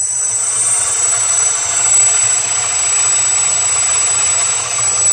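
A clamped mock combat robot weapon revs at low throttle, giving a steady, loud mechanical whir topped by a thin, high, constant whine, with no pauses.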